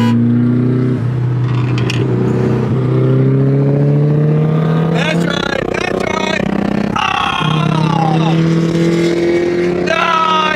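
A turbocharged SR20DE Nissan Silvia races a Duramax truck, loud engines droning and rising in pitch through several gears, one shift break near the middle, with voices talking over the roar.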